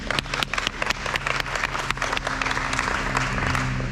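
Audience applause at the Pacific Air Show 2024 media day opening ceremony, a steady outdoor clapping wash of many hands with sharper individual claps standing out, lasting throughout at moderate loudness.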